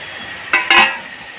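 A couple of brief clinks as spiced ridge gourd goes into a metal tiffin box in a home kitchen, two quick knocks close by with a faint hiss of room tone between.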